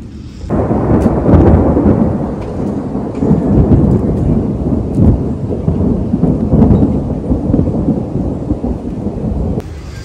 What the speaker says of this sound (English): See the sheets of rain coming down